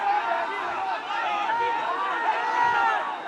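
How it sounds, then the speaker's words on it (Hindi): An agitated crowd during a police lathi charge at Jantar Mantar in Delhi, a dense continuous babble of many voices and shouts, fairly loud and close. "भीड़ उग्र हो गई है, पुलिस की ओर से"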